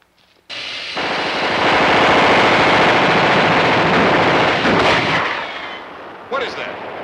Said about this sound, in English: Who's shooting? No one is. That's That's a recorded soundtrack from a movie studio